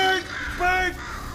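A bird cawing in the video game Portal 2, two harsh crow-like calls in quick succession, loud and close.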